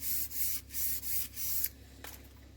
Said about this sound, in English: I'm going to sharpen my blade as well, just by dragging it back and forth.